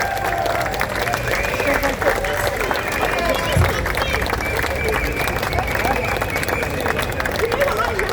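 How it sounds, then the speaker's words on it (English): An outdoor crowd at an anti geo-engineering rally on the summer solstice gives sustained applause, dense and continuous clapping mixed with crowd babble and occasional cheers. "Can we give them a round of applause as well?"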